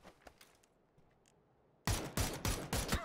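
Gunshots in PUBG: after a quiet stretch with faint distant pops, a loud burst of four or five rapid close shots fires in quick succession.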